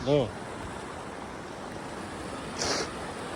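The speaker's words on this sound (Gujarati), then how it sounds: "કેટલું બધું પાણી આવે છે" Steady, broad rushing of heavy flood water in a village river during rain, flowing continuously, loud and close, with a brief voice-like chirp at the start and a short swell near the end.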